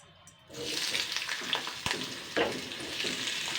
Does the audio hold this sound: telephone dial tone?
no